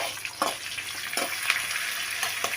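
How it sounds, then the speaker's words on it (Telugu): Onions, green chillies and curry leaves fry in a pan with a steady, close sizzle, broken by a few short stirring scrapes. "ఉల్లిగడ్డలు, పచ్చిమిర్చి కొంచెం వేగిన తర్వాత కొంచెం కరివేపాకు పచ్చిది వేసుకున్నాం"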